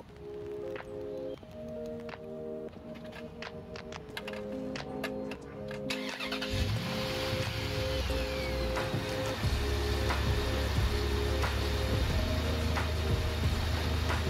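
A truck engine idles at low volume during a head gasket test. The steady rumble grows slightly fuller after a few seconds, with scattered clicks and handling noises over it and no talking.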